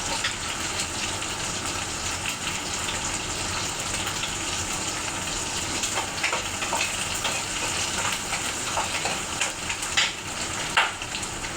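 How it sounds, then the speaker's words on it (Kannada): Food frying in oil makes a steady, dense sizzle for the whole stretch, with scattered crackles and a few light utensil clicks toward the end and no talking. "ಅಲ್ಲಿ ಎಣ್ಣೆಲಿ ಫ್ರೈ ಮಾಡಿಕೊಂಡು ಆಮೇಲೆ ಸಿಗ್ತೀನಿ."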